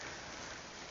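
Steady rain patters in a continuous soft hiss, fairly quiet and even throughout.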